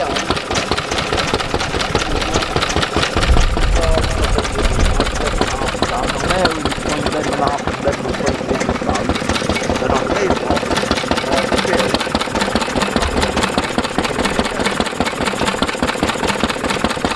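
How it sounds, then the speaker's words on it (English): A vintage engine at a heritage transport show runs steadily at idle, a continuous mechanical chugging with a knocking rhythm that stays loud and close throughout, with voices of people talking nearby. "And the engine starts back up again."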